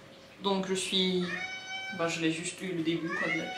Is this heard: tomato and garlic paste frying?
no